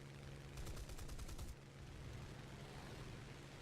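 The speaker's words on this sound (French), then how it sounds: "les anti-aériens qui me tirent dessus" Anti-aircraft guns fire at the player's plane in a French-language flight combat video game, a dense rapid burst of shots for about a second over a steady engine drone that carries on alone afterward.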